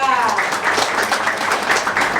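Applause for the groom at a Thai wedding during the trousseau (sin sod) display ceremony: a steady, dense wash of many hands clapping that fills the whole moment at an even level.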